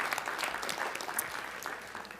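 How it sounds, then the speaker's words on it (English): A crowd at a school board education meeting claps steadily for a band, a brief continuous patter of applause heard at moderate, slightly distant level with no talk over it. "We can give them all a round of applause."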